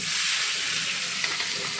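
Chopped onion hits hot oil with tempered spices, giving a steady, close, loud sizzle that stays even for the whole moment, with no voices.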